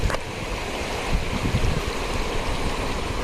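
Steady rushing water flowing nearby, a broad continuous wash with a few low rumbles, no voices.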